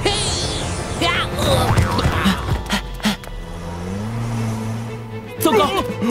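A runaway cartoon hamburger food truck roars along with a revving engine and a brief tire-like squeal, while excited voices and shouts sound over the motor noise.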